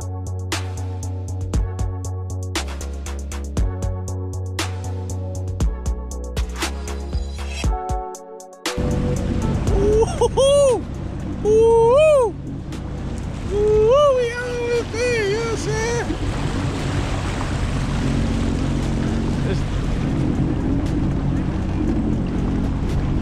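A jet ski heading from the California coast toward Catalina Island, its engine a loud, steady roar with wind buffeting, following a stretch of music; people call out over the noise.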